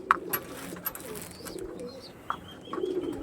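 Lal-ful Andhra pigeons coo softly in a loft, a few short close calls with scattered clicks and rustles, no voices.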